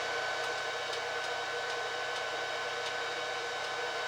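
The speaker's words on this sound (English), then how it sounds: "the fans are significantly louder on this one" Cooling fans of an ECO-Worthy EC100 charger running under an 18-amp load give a loud, steady whoosh with a faint periodic ticking, close by and with no talk.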